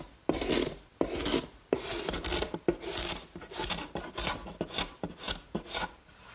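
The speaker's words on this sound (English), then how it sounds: "The scraper is really the best way." A wood scraper rasps repeatedly across a board, lifting off dried glue in a steady series of about ten firm, close strokes, each a gritty scrape with short pauses between.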